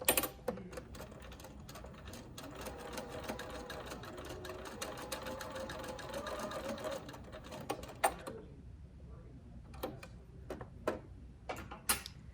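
A sewing machine stitches coat fabric, easing it around a curved edge. A steady, close whirring run of rapid stitching lasts about eight seconds, then stops and leaves a few sharp clicks and taps.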